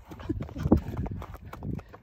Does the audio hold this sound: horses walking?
yes